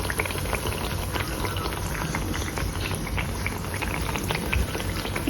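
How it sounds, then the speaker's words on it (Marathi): Malpua batter frying in hot oil, a dense continuous bubbling sizzle that is close and steady for several seconds with no talking. "बरोबर वाजत आहे हे बाबा फ्राय होते मस्त"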